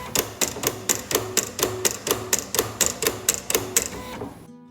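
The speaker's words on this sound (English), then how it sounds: "send my machine information to my Silhouette Cameo to cut my design for me." A Silhouette Cameo cutting machine slices a contact vinyl stencil design, giving a brisk, evenly spaced series of sharp mechanical clicks and whirs, about three per second, before stopping abruptly.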